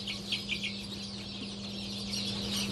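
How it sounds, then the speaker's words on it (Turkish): Newly hatched yellow chicks in an incubator give a steady chorus of high, thin peeps over a constant low machine hum, close by and continuous, with no talking. "Böyle sarı bir civciv."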